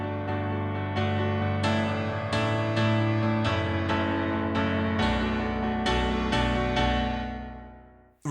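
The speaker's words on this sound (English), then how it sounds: "So the chord progression in the chorus sounds like this." Chorus chord progression of the song Good Mood from the Paw Patrol movie, played as sustained chords, changing steadily and ringing out at the end, with no voices.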